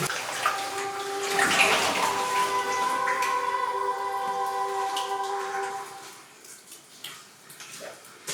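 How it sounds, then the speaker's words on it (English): Water rushes and splashes steadily somewhere below in an old mine stope, a continuous washing roar with faint ringing tones. It fades toward the end. "There's a lot of water noise down below."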